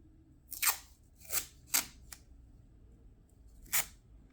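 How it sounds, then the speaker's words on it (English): Tape being pulled and torn to seal a plastic comic book bag: several sharp, close ripping bursts in an uneven sequence, a couple in quick succession, then a pause before one final strip, with no voices. "So we're going to tape this up."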